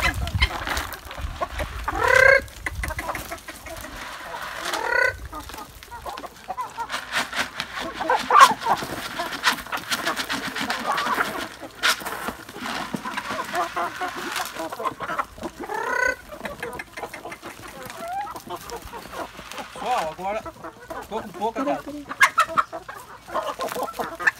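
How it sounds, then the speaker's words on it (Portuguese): Chickens on a small Brazilian farm clucking and squawking while being fed corn, a busy, continuous chorus of clucks with occasional louder calls, close by, under intermittent talk. "Então vou tratar as galinhas aqui primeiro, pessoal."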